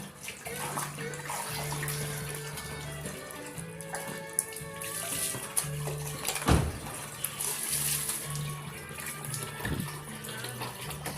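Water from a tap pours steadily into a bathtub while a small child plays, with splashes and a few soft voices in the background.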